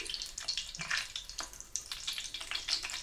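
Butter sizzles and crackles steadily as it browns in a cast iron pan, a dense continuous hiss with bright popping spatters, close and moderately loud.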